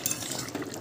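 Curry stirred in a pot after fried cumin powder is added, giving a short burst of utensil clinks and wet scraping, close and fairly soft.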